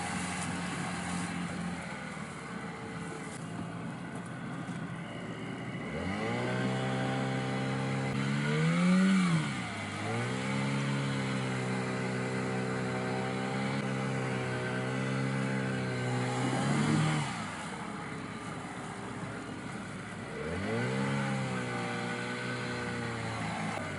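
An outboard boat motor labours through very shallow water, its pitch climbing and dipping in three long revving passes with brief lulls between them, steady and moderately close, with no talking.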